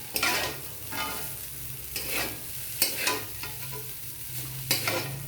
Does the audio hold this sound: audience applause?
no